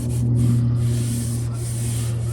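Rubbing compound pressed hard and worked by hand onto the gelcoat of a fiberglass boat hull, a steady, close, continuous rubbing hiss with a low hum underneath and no talk.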